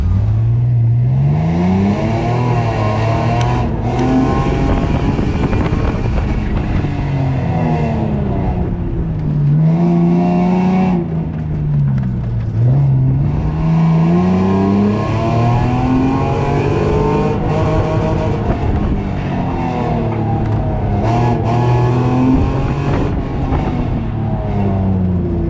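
V6 Ford Mustang engine during an autocross run, loud and close, revving up and down repeatedly through gear changes and corners for the whole stretch.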